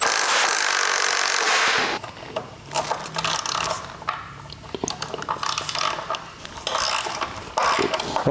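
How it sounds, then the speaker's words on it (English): A ratchet works loose a tight 13mm nut behind the adjuster on the power steering pump of a 1992 BMW E34 M5 S38B36 engine, giving irregular close metallic clicks and clanks after a brief burst of broadband noise. "What I'm doing right now is I'm undoing the 13mm nut that is right behind the adjuster."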